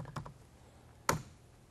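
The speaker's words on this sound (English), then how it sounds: "I can go into the newsroom computer system and quickly correct that problem by typing in the clip ID for that appropriate video asset." Keys clatter on a newsroom computer keyboard as a clip ID is typed: a quick cluster of taps followed after a pause by one sharper keystroke, close and fairly quiet.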